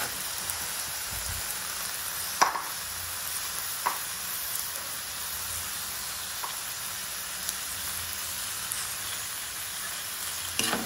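Shredded cabbage and carrots frying in a pan for miki gisado, a steady close sizzle with occasional sharp scraping clicks of stirring scattered through.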